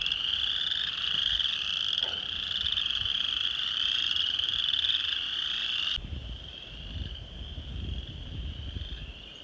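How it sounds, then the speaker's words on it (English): Frogs croak in a steady, dense chorus at a farm creek after rain, loud and continuous throughout, with the calls dropping slightly in level partway through as low rumbling movement noise rises underneath. "froggies, sound happy"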